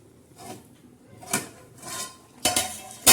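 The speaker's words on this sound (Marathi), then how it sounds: "चला आता आपण झाकण काढून बघूया" Lid lifted off a pan of cooking stuffed eggplant: a few close clinks and scrapes of metal cookware, ending in a louder clatter, with no talk.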